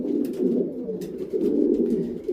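Several yearling racing pigeon cocks coo softly inside a loft, their low, rolling calls overlapping close by in a continuous murmur, with light rustling and small knocks in the background.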